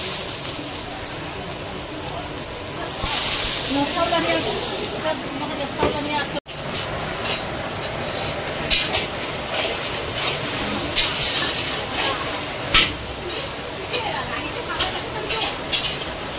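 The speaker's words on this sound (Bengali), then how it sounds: "ওদিকে ঝুড়ি আলু ভাজা হচ্ছে" Jhuri aloo, shoestring potatoes, frying in hot oil at a busy function kitchen, a steady sizzle and hiss with stirring clatter, heard under ongoing chatter and nearby voices.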